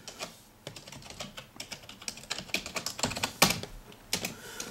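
Someone types a password on a cheap, poor-quality computer keyboard: irregular bursts of sharp, close key clicks with short pauses between them, and no talk.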